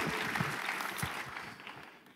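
Church congregation clapping for the worship leaders, singers and musicians, a lively burst of many hands close by that gradually fades toward the end.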